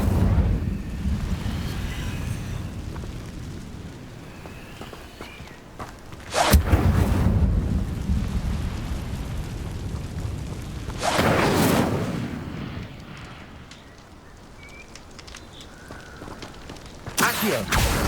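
Incendio fire spell cast in Hogwarts Legacy, heard as two deep whooshing booms of flame that swell and fade between stretches of steady low background rumble.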